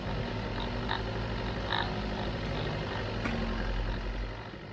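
A 4WD engine labours steadily while climbing a narrow off-road channel near Coffs Harbour, a loud, continuous low drone close by with little variation throughout.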